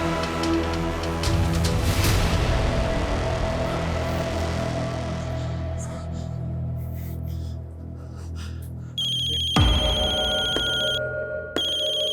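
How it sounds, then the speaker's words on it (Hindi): A phone ringtone plays loudly as a repeating electronic melody, then a brief pause and a different ringing tone starts near the end. "किसका फोन है"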